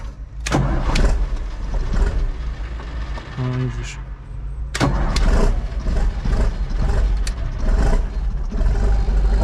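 A tractor engine cranks and fires up, first a short burst and stutter, then catching at about five seconds into a loud, steady, rough idle close by, with someone speaking briefly at the start.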